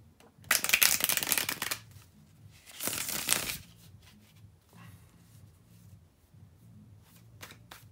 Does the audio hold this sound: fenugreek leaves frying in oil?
no